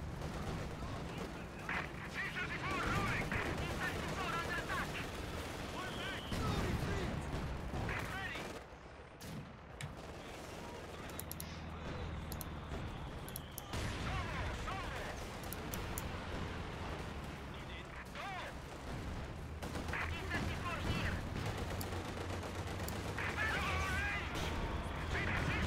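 Machine gun and heavy weapons fire in Company of Heroes 2, with sustained rattling bursts, booming artillery-like blasts and battle noise throughout, while a voice talks over parts of it.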